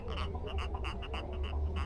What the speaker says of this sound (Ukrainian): Отака ну, жабка квакаюча.